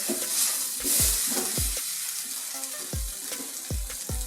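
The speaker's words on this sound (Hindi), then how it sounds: "दूध जो थोड़ा थोड़ा करके डालेंगे और इसे हिलाते जाएंगे ताकि गुठलियाँ ना बने" Milk stirred into a chicken bread filling in a pan over a low flame, with a steady sizzle and several scraping stirs and knocks against the pan, close and fairly loud, with no voices.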